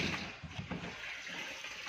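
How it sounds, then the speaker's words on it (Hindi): Water runs steadily through a water tank pipe just fixed after a leak, a continuous soft rush with no break and no voices. "ये देखें जी पानी आ रहा है"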